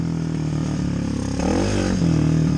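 A Motoped, a pedal-style moped motorcycle with no clutch, revs its small engine while riding on dirt trails, a steady close-up drone with harmonic whine that swells louder toward the end, with faint rattling from the rough ground.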